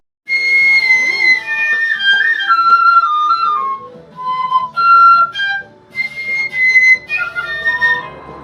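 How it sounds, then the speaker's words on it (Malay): A 200 cm long bamboo flute plays a wavering, breathy melody in sustained high notes with short pauses between phrases, close by. "Ini seruling lah, panjang dia 200 cm"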